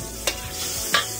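Ginger sautéing in butter with a little oil in a pan, a soft steady sizzle close by with two brief scraping stirs of a spatula.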